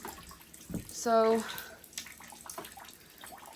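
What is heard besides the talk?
water dripping into buckets from a leak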